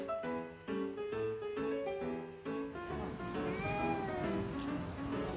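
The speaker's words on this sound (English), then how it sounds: "That dog is bullying that cat." A cat meows and caterwauls through a played video, several drawn-out, wavering yowls in a row, steady and fairly close, with no talk over them.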